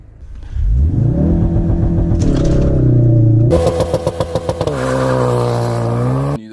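A 2016 Ford Focus RS engine revs hard at full throttle on a back road, a loud, close rumble climbing in pitch, surging through several rapid gear-change pulses and then holding a steady high drone.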